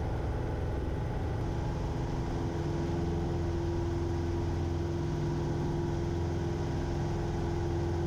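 Small general-aviation airplane engine at full takeoff power on departure from runway 14 at Griffin, a steady, droning hum with a constant tonal note that holds evenly throughout.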